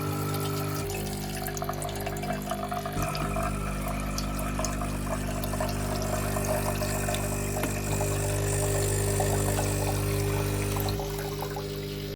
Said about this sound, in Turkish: Tamam söyleneni yapalım ve suyu dolduralım.